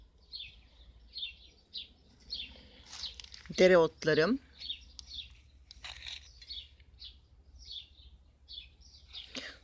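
Small birds chirp in a garden on a bright morning after a cold night, scattered short tweets at a moderate distance over a low hum, with a person briefly speaking in the middle.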